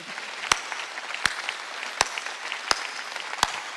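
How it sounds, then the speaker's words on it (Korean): A church congregation claps during a sermon, five loud, sharp unison claps spaced evenly about every 0.7 seconds over a low murmur of scattered hand noise. "박수 치라."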